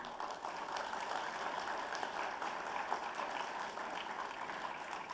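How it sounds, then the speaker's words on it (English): A university convocation crowd for law, business and commerce graduates applauding, a steady, faint wash of many hands clapping from a distance without letting up. "With immense pride and admiration, let's all give a big round of applause to Father Viju Pedi."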